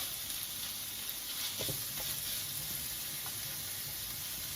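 Pork frying in a pan for a Thai basil stir-fry: a constant faint hiss of sizzling with a few soft stirring clicks.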